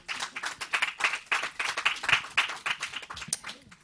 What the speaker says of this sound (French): On peut applaudir également.